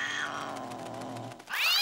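A cartoon cat gives a single drawn-out meow, falling in pitch and ending with a sharp, rising squeal, clear and fairly close.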